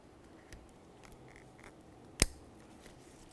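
A steering wheel wiring harness connector on a 2000-2006 Chevrolet Tahoe clicks into place, one sharp close click heard against quiet background.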